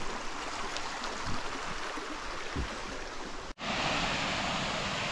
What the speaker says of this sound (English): there you have it, Heraclea Waterfall